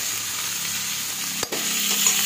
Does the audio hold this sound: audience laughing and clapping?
no